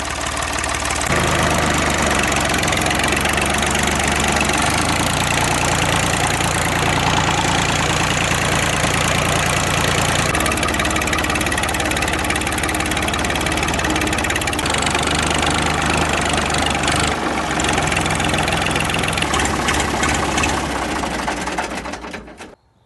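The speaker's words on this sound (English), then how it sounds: "That thing sounds pretty good without a muffler, but it's pretty loud." A Ford 3910 tractor engine idles with no muffler fitted, a loud, steady, close-up mechanical chug with a harsh knocking edge that runs unbroken for the whole stretch before cutting off at the end.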